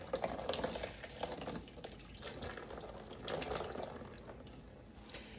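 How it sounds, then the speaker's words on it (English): Water poured from a cup runs and splashes unevenly over a wig, rising and falling in gushes as it streams down onto the soft hair, close by with no talking. "I will just run this water down through it"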